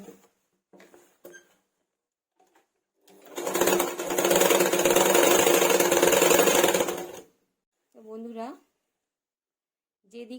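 A sewing machine runs a steady burst of about four seconds, double-stitching a pillow cover made from old cloth. Short clicks and handling noises come before it, and a brief voice follows.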